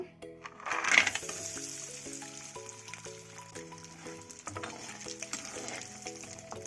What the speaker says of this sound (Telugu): ఇవిగోండి వడియాలు వేయించి చూపిస్తాను